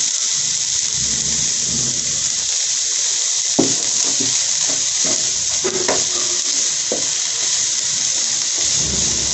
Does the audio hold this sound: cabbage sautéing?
yes